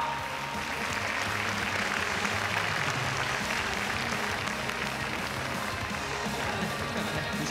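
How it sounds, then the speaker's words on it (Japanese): Sustained, loud applause from an audience at a basketball team's fan appreciation event as players leave the court, steady clapping throughout with no talk over it. "また引き続き大きな温かい拍手でお見送りください。"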